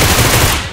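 A short, loud burst of rapid video game gunfire crackles densely for under a second, then cuts off.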